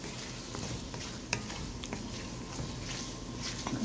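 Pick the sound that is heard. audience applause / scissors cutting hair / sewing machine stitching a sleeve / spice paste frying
spice paste frying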